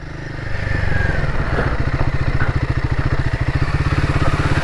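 A Royal Enfield Himalayan 450 single-cylinder motorcycle rides UK trails, its engine a loud, steady, close thumping pulse with a rapid even beat that rises slightly and holds.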